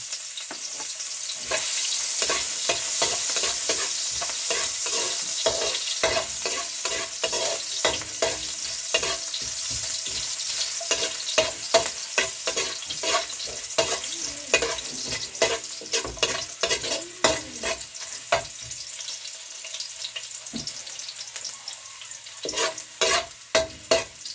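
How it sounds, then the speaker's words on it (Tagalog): Ginger sautés in a pan, a steady sizzling hiss broken by frequent scraping and clinking stirs of a utensil, close up and fairly loud. "Gisa muna tayo ng luya."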